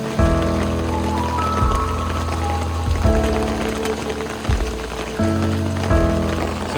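Rain falling during a boat tour in Ninh Binh, Vietnam: a steady patter of raindrops on surfaces and water, with a few recurring louder swells or thumps and a low background rumble, and no talking.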